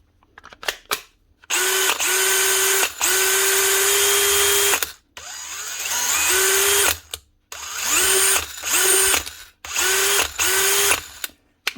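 A small DeWalt cordless drill, back from repair, whirs in several bursts, spinning up, running steadily for a few seconds, then stopping, with short pauses and clicks between runs.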